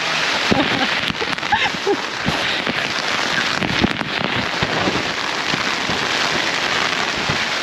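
Heavy rain pours down in a dense, continuous rush, with gusty wind buffeting and scattered sharp patters throughout.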